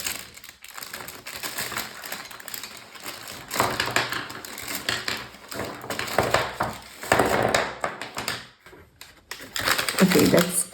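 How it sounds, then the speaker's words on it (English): Crinkly rustling and crunching of a paper bag as art supplies bought at an art store are pulled out, irregular bursts of handling noise close to the microphone over about ten seconds. "It's a bit noisy, this paper bag, so I'm just gonna take it all out at once and then I'll talk."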